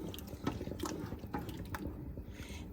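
Lemon juice poured and stirred into thick peach pie filling, giving quiet wet splashes and squelching stirring strokes at a steady, close-up rhythm.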